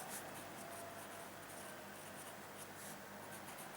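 Marker or chalk scratching steadily across a board during a physics lesson on current electricity, close and continuous with faint strokes repeating and no talk over it.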